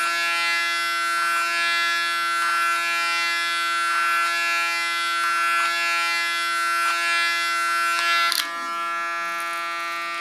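An electric hair clipper cuts hair over a comb during a short haircut, a steady close buzzing hum with brief dips as it moves through the hair, cutting off near the end.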